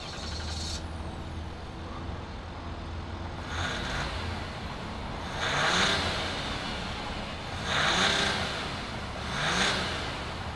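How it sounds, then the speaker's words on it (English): A 2020 Ram 1500 Limited EcoDiesel turbo diesel V6 runs with a steady low rumble. Louder hissing surges rise over it every couple of seconds, and no one speaks. "see if it makes any of that diesel sound"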